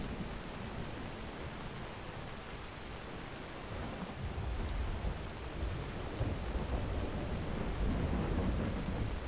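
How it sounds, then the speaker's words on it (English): Steady rain pours in the video game Skyrim, with low rolling thunder that swells louder in the second half; a continuous dense wash of rainfall with no talking. "Or do I have to wait before the rain will just go away?"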